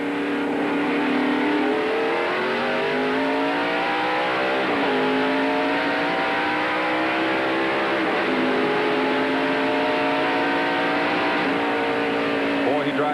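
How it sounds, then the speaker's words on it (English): NASCAR Winston Cup stock cars roar as they accelerate on a restart at Dover Downs in 1993, a dense pack of engines rising and shifting in pitch continuously, loud and sustained. "Let's stay with Jeff Gordon and listen to this restart"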